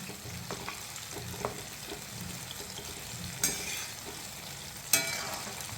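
Eggplant pakoras deep-fry in hot oil, giving a soft steady sizzle close by, with a few sharp clinks and scrapes from stirring or handling in the pan.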